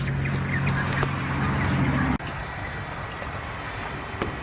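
Ducklings newly joined to an adult duck flock quack outdoors in late October, with a low, droning call that breaks off partway and scattered sharp quacks over a wet, rain-like patter.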